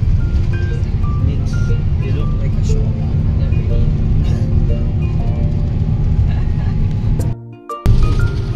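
Inside a moving bus on the road to Batangas, a steady loud engine drone and road rumble fill the cabin, with brief talk and a short dropout near the end.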